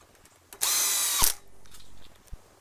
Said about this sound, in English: Now I'm using an impact driver.